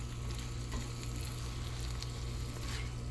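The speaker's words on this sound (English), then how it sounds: "So I'm just gonna kind of stir fry this a little bit" Tofu stir frying in a pan, a quiet steady sizzle with faint scraping and stirring under a constant low background hum.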